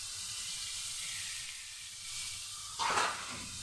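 Cauliflower frying in a pan gives a steady close sizzle and hiss, with a brief scrape of stirring near the end.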